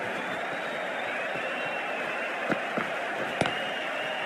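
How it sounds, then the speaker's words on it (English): Steady cricket match crowd applause, a continuous wash of clapping at moderate distance, with a few sharper cracks standing out near the end. "A round of applause."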